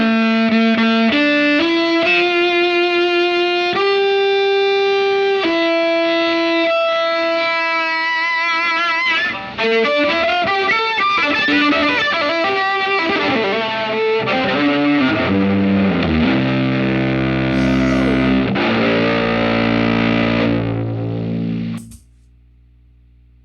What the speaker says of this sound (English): Finally, the range master into the fuzz face.